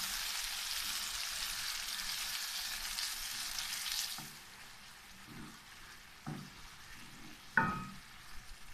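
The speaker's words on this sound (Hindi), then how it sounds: "अब हम इसमें डाल देते हैं गोश्त और इसको अच्छी तरह फ्राई कर लेते हैं।" Mutton frying in a pan for fry dahi gosht, a strong hissing sizzle that drops to a quieter bubbling after a few seconds, with occasional scrapes and knocks of stirring, no talking.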